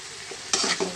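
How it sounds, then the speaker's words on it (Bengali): Ingredients with ground nuts sautéing in a pan: a soft sizzle under a few quick, scraping stirs near the end, close and brief. "সব উপকরণগুলো দিয়ে ভালো করে কষিয়ে নেব।"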